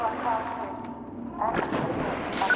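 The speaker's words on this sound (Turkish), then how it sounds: "yanımda patladı" Explosions go off right beside the player in the video game Half-Life 2, heavy booming bursts rumbling one after another while someone talks over them.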